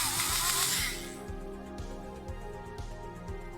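A pistol-grip hobby drill bores into a miniature for a Forge Fathers tabletop build, with a steady close motor whine and a brief louder burst at the start as steady pressure is applied.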